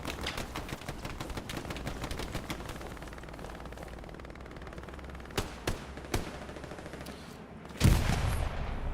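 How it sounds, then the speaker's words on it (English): Rapid gunfire in the World War II shooter Hell Let Loose, a fast dense string of sharp reports at mid distance followed by a few spaced single shots and a louder burst near the end. "Pistol action from Pipe Wrench."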